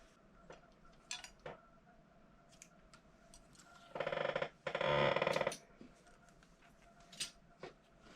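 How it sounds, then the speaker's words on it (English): Scissors snip through knitting yarn on a Passap E6000 knitting machine setup, two short, crisp cutting bursts in quick succession amid quiet clinks and handling noises nearby. "So what I'm going to do is cut the yarn and then start the process."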